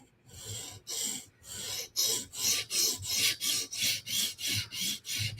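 Knife sharpened on a TSProf Kadet guided sharpener, a series of about a dozen rhythmic rasping strokes of stone on steel, close and steady, each stroke a short scraping swish with brief gaps between.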